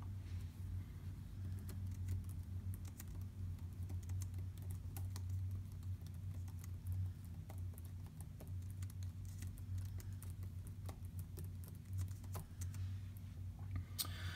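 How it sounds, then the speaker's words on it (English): Rapid clicky keystrokes patter steadily on a Chromebook laptop keyboard, quiet and close, with a low background hum underneath and no talking. "I'm just gonna type a little bit for you so you can kind of hear it."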